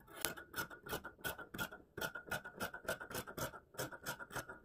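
Scissors cutting plush stretch fabric for a vest make a close, quiet rhythmic rasping snip, repeated steadily in short strokes.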